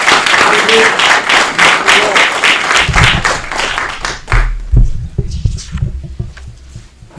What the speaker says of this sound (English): Another big round of applause for the code enforcement agency of the state